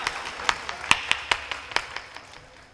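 Scattered audience clapping at a Hindi comedy show, a sparse run of separate claps spread across a short stretch, fairly faint and with no voice over it.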